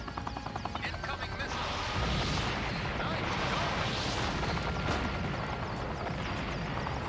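Explosions and rapid firing from incoming missiles in the PS1 video game Black Dawn form a dense, sustained barrage that swells after the first couple of seconds, with a voice speaking over it.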